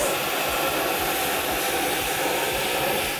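Overclocked cheap hobby CNC machine running with a loud, continuous whine and whir of the spindle, a steady rushing noise with faint low rhythmic thumps underneath and no talking.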